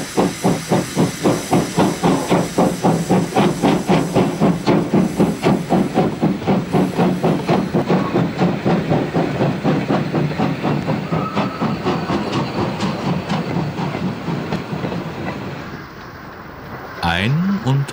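A DB class 001 steam locomotive with a new-build boiler starts off from Kulmbach station, loud rhythmic chuffing exhausts steadily quickening over hissing steam, then fading slightly before a sharp whistle near the end.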